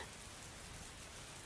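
Steady rain falling on a surface, a dense even hiss of drops filling a rainy-night horror narration, with no voice over it.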